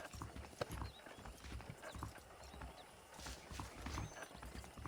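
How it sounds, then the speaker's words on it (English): Horse hooves clip-clop at a steady walking rhythm in the Western video game Red Dead Redemption, moderately near under a soft ambient background, with no talking. "The horses are saddled up over here"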